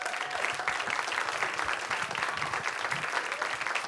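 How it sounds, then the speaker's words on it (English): A live storytelling show audience gives a big round of applause to welcome a performer, loud, dense clapping that fills the room continuously for several seconds. "give him a big round of applause"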